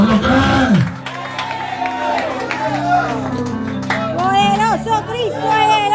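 A Spanish-language church congregation cheers, shouts and claps together in a loud, continuous wash of crowd noise, with raised voices calling out over it throughout.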